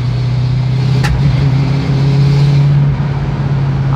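Ford Maverick with a T5 gearbox and a stuck valve, its engine running loud and close with a steady low drone that stumbles and dips as it misfires.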